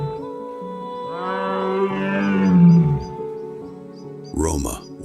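A tigress named Roma calls out in a forest: a drawn-out, rumbling moan that swells and then trails off, with a sharper second call closing the clip, under a steady musical drone.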